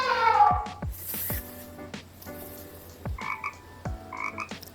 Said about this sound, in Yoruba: àkèré